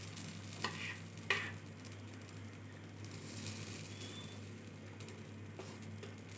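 Appe batter sizzling in the round cavities of an appe pan, a faint, steady frying hiss over a low hum, with a couple of brief clicks of utensils near the start.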